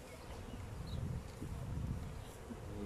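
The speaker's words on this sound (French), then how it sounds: "Et là, il y a beaucoup plus d'abeilles sur les cadres." Honeybees buzz over brood frames in an opened spring beehive, a dense, steady hum close by that swells and dips, with faint rustling around it.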